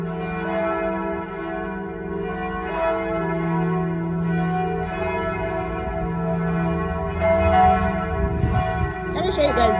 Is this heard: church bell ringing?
yes